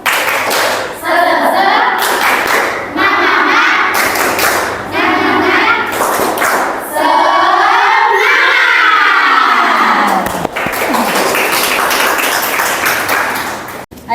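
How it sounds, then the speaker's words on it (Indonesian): Schoolchildren in a classroom perform a rhythmic spirit clap, loud repeated bursts of clapping with shouted chanting between them, the pattern recurring several times and ending in a long rising shout. "Tepuk semangat."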